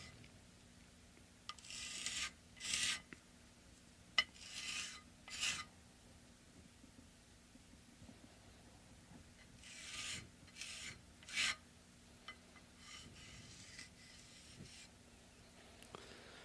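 Sandpaper rubs against a handmade fret polishing tool in several short bursts of rasping strokes separated by quiet pauses, faint and close, with no talking.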